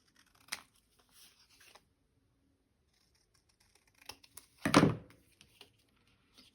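Scissors snip through paper for a handmade craft project, a few brief crisp cuts early on, then a louder, longer slicing or tearing burst near the end, close and quiet otherwise with no talking.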